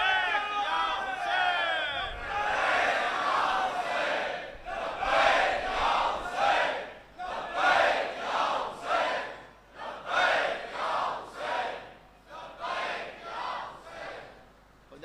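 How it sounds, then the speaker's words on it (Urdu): A mosque congregation at a Muharram majlis in Ancholi, Karachi, chants the Labbaik ya Hussain slogan in loud, rhythmic massed voices, with about eight strong repeated bursts that swell and fall over fifteen seconds. "پورے وجود سے نعرہ لگائیے گا، لبیک یا حسین."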